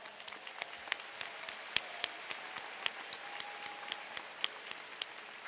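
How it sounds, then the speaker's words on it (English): Applause for award nominees at the West Ashley High School 2023 commencement ceremony, a steady wash of crowd clapping with a few sharper individual claps standing out throughout. "Ladies and gentlemen, please give these nominees a round of applause."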